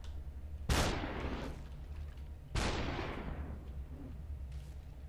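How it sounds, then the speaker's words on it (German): Gunfire in the video game Superhot: two sharp, loud shots about two seconds apart, each ringing out in a long decaying tail over a low steady background hum. "Schießt nur der eine oder schießen alle?"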